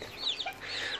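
A brooding hen that is laying eggs while tending her chicks gives a soft, brief burst of clucking, faint and close.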